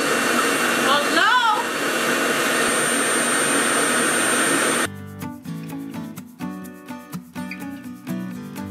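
A Revair vacuum hair dryer runs on type 4 kinky hair with a loud, steady, roaring whoosh for about five seconds, then cuts off as music takes over.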